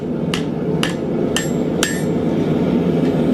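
Four sharp metallic hammer strikes ring out at a steady pace as a metal stake is bent around, then the blows stop, leaving a steady hum of background noise.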